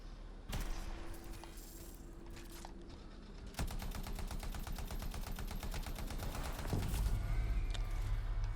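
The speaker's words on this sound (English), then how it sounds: "that's not a good homing missile" A homing missile fires in the video game Anthem amid rapid rattling weapon fire and steady game noise, with a sharp burst partway through and a dense, continuous stream of repeated shots after it.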